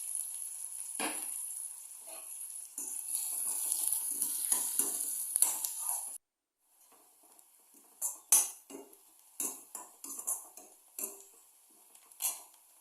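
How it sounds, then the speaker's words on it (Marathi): Curry leaves and finely chopped onion sautéing in hot oil in a pan for cabbage bhaji, a steady close sizzle at first, then scattered scrapes and clinks of a spoon stirring. "कढीपत्ता आणि एक अख्खा बारीक चिरलेला कांदा घातला. आता ते व्यवस्थित परतून घ्यायचं."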